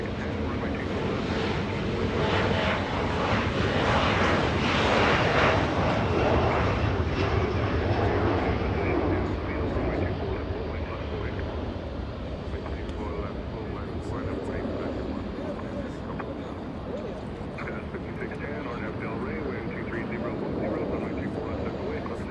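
An airliner landing on runway 24 right at Los Angeles International Airport gives a loud, steady broadband engine roar that swells near the start and then holds at a slightly lower level, with voices heard throughout.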